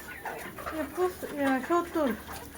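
Chickens on a poultry farm holding about 250 birds, with brief clucks and calls mixed into steady nearby conversation between people.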